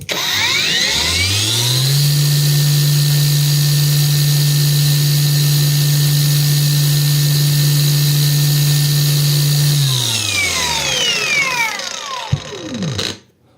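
A PATUOPRO angle grinder set to speed 9 runs free with no load. Its whine rises over about two seconds, holds a loud, steady high pitch for roughly eight seconds, then winds down to a stop.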